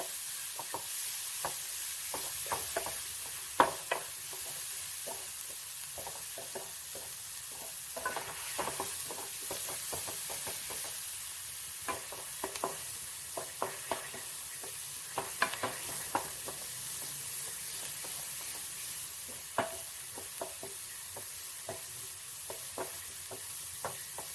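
Chopped onions frying in a pan for an egg dish, a steady sizzle under frequent scraping and clinking of a spoon stirring, close and continuous, with no talk.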